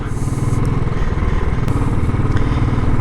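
A motorcycle engine under way on an expressway, a loud continuous drone heard from the saddle with wind noise, the bike having a stiff third gear.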